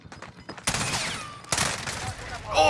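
Gunfire bursts crackle in a video game match, with dense rapid volleys breaking out twice, loud and close, amid game effects and a voice chiming in near the end.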